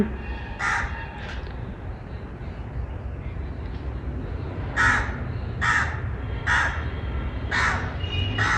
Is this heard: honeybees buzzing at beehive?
no